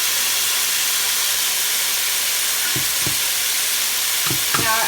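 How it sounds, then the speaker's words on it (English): Shrimp and a mushy tomato sauce mix sizzle steadily in a hot pan, with a few soft scraping stirs near the end and no talking. "So I just need to stir."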